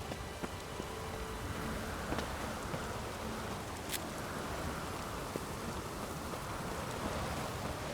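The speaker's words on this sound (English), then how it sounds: "Looks like rain." Steady, dense rain hiss in the video game The Witcher 3: Wild Hunt fills the whole stretch, with a few faint drips and ticks scattered through it; no voices.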